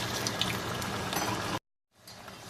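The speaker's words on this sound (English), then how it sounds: "Always ready for the yucca sticks. Putting them in, frying them." Yucca sticks fry in hot oil with a dense, steady crackling sizzle. The sound cuts out briefly, then returns softer and more sparse.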